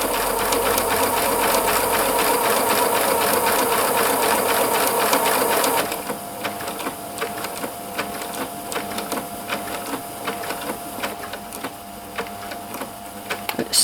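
A Pfaff Classic Style sewing machine stitches a buttonhole with its buttonhole foot, a loud, steady, rapid mechanical whirr that drops to a lighter, slower stitching rattle halfway through as the machine finishes the stitch.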